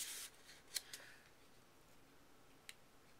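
Scissors cutting paper for a handmade card, a short rustling swish followed by a couple of crisp snips, close and quiet.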